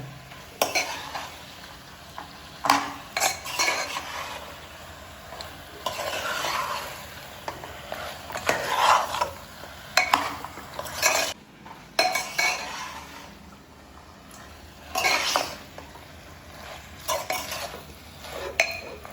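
A spoon scrapes and clanks repeatedly against a metal cooker as goat head meat is stirred with masala, with light sizzling underneath throughout.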